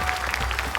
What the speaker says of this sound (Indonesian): Tepuk tangan untuk Zura.